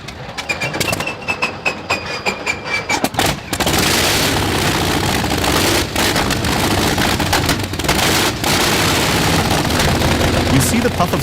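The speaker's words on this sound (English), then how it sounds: "First, that hiss of air, then the dramatic, uneven firing sequence, like fireworks going off one by one." A massive old 9-cylinder engine starts up with a hiss of air, then fires unevenly in loud, irregular bursts that build into a continuous dense roar.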